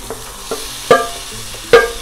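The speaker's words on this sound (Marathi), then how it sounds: "आता ह्याच्यामध्ये जे मी मॅरिनेट केलेलं चिकन आहे ना ते घालणार." Marinated chicken stirs into a kadhai of cooked tomato masala, with a low sizzle under a few sharp scrapes and clanks of the spoon against the pan.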